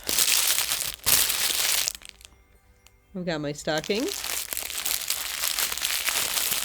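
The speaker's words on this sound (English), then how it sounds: "I've got my tissue paper. We're going to wrap it up." Tissue paper crinkles and crushes loudly up close while a stocking gift is wrapped, with a brief pause where someone speaks before the rustling resumes.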